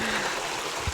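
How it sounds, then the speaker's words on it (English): A small creek flows steadily outdoors, with a continuous close, bubbling rush of water and no talking, ending in a brief low thump. "Nice little creek."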